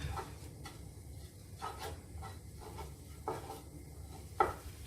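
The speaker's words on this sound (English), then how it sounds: "So you can start to hear that sizzle a little bit." Two chopped chicken fillets fry in a decent-sized deep-walled pan, giving a faint, steady sizzle and hiss. Occasional light clinks and stirring scrapes of a utensil sound against the pan.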